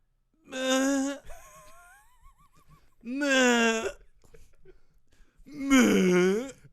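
A voice imitates three short, strained tennis grunts, each a brief breathy groan with pauses between them, close and fairly soft.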